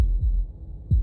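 Low heartbeat thud from the video game Slay the Princess, one soft pulse early and a stronger beat at the end, deep and muffled over a quiet hum.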